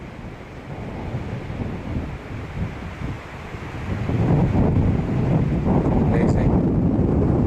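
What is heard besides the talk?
strong wind on a mountain ridge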